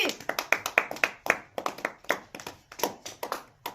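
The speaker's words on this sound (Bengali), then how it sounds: "হাততালি সবাই হাততালি" Children clap along during a kids' game, a run of sharp, quick handclaps in an uneven rhythm, close and fairly quiet, with bits of voices mixed in.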